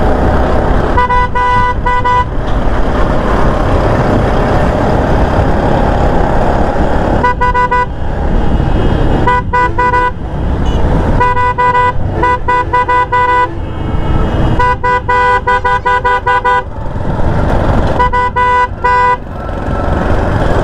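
A loud, close motorbike horn honks repeatedly in highway traffic, in bursts of varying length, over a constant roar of engine and wind.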